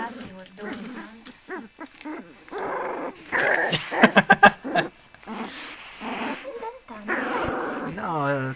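Cartoon dogs in an animated film growling and yipping, rough snarls and short barks mixed with talk, a cluster of sharp loud bursts in the middle, close and busy.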